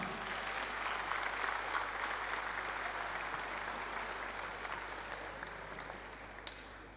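An audience applauds at a school graduation ball dance, a broad, sustained round of many clapping hands that rises early, then slowly tapers off, with a faint electrical hum beneath.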